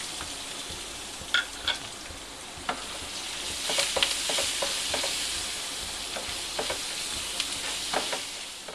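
Onions sauté in a pan for poha upma with a continuous bright sizzle, punctuated by intermittent spatula scrapes and taps as they are stirred.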